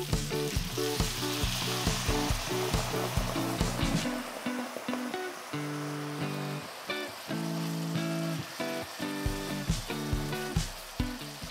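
Pork tenderloin sizzles loudly in a hot pan before being deglazed with wine, giving a steady, dense frying hiss throughout, with rhythmic background music playing along and no talking.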